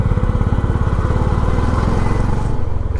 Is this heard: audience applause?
no